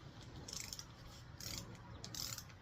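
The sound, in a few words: torque wrench tightening ARP head studs on small-block Chevy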